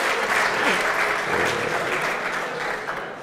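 An esports crowd cheers and applauds steadily throughout, a dense wash of clapping at moderate loudness with some indistinct voices mixed in.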